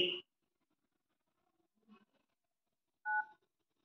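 Telephone keypad DTMF tones beep during an Airtel customer care call, with a loud first tone, a faint second one and a clear third, short and isolated against silence.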